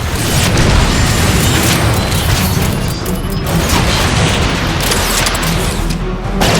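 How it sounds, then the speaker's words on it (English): An artillery strike in the video game Transformers: Fall of Cybertron, heavy continuous booms and rumbling blasts layered with mechanical clatter, loud and close throughout. "Optimus, how about calling in an artillery strike?"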